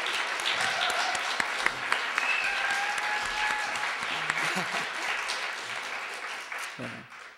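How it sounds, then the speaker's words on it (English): Audience applause for poet Sherry D. Wilson at a reading, a loud, sustained wash of clapping hands that holds steady, then tapers off near the end. "let's give a round of applause for Sherry D."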